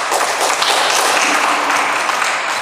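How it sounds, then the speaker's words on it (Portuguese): A church congregation applauds during a sermon, a steady, loud wash of many hands clapping together with no talk over it. "Você pode aplaudir Jesus?"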